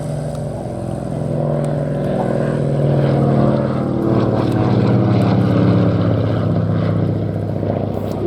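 A propeller aircraft flies past belly up to the crowd at the Sywell airshow. Its loud, steady engine drone swells and holds for several seconds before easing off, with no talking over it.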